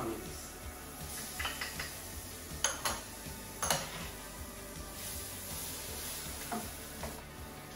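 Garlic, ginger and onions fry with spices in a pan, a steady soft sizzle with occasional scrapes and clinks of stirring, fairly quiet and close.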